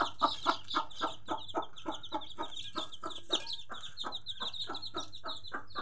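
A hen, a mother with newly hatched chicks, clucks in a steady rhythmic series of short, close clucks over about six seconds, with no talking.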